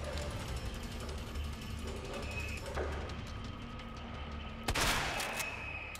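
Shotgun fired in Resident Evil 2 Remake, a single loud blast near the end over a steady hum of game ambience and mechanical clicks.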